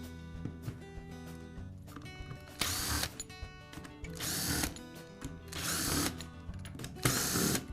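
Power drill driving out the housing screws of a DeWALT hammer drill during repair, several short whirring bursts separated by pauses, close and fairly quiet with no talking.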